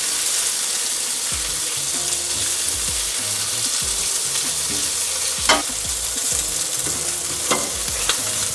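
Shrimp frying in a pan with olive oil, a steady, even hiss and crackle of sizzling that runs throughout, with a few sharper pops and clatters as the pan is worked.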